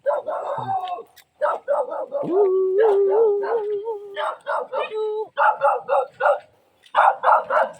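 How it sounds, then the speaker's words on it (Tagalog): A dog barks in short bursts and lets out a long, wavering howl in the middle, with people talking over and between the sounds. "may aso"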